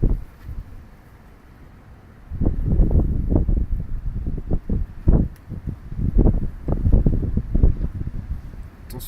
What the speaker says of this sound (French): Les rafales de vent sont bien fortes quand même.